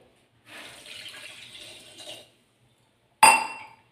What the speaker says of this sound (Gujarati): આપણે એક ગ્લાસ પાણીનો નાખીએ